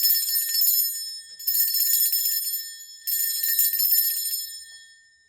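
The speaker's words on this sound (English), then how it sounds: "I'm going to ring a bell to cleanse the space around us" A small bell rung to cleanse a space gives three bright, shimmering high rings, each sustained for over a second and fading before the next, close and fairly loud with no voices.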